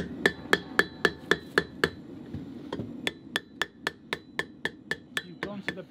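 Blacksmith hammering hot iron on an anvil, sharp ringing strikes in a steady rhythm, a run of about seven blows, a short pause with faint talk, then another long regular series.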